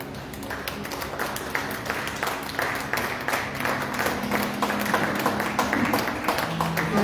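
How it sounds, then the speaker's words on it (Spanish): A church congregation bursts into sustained applause after a prayer, a steady wash of many hands clapping at moderate loudness, with a low hum and murmured voices underneath throughout. "Ese aplauso es para Dios,"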